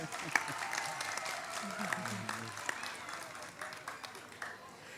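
Moderate applause from an audience at a talk on manhood, fairly distant and steady, with a voice speaking over it intermittently.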